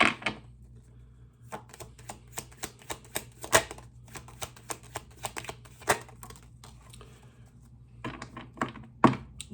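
Tarot cards being drawn and handled, giving a run of crisp card snaps, slides and shuffling clicks close by, with a few short pauses and no talking.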